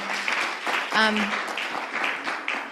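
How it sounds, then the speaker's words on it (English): A community council meeting audience claps for a colleague in a short scattered round, with a brief voice cutting in partway through. "I want to give a clap for Amy."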